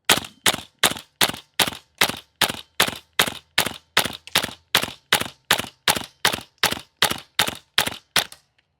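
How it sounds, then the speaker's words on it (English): Double Eagle Noveske N4 gas blowback airsoft rifle firing about eighteen evenly spaced shots in a steady semi-automatic rhythm, each a sharp loud crack with a brief springy clack, heard up close with no talk. "you can hear the typical like doing, doing of the spring every time we fire"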